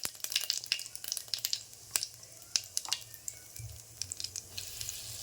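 Cumin seeds and asafoetida sizzle in hot oil for a tamarind-jaggery sambar, a continuous crackle dotted with sharp popping bursts, near and moderately quiet, with no voices.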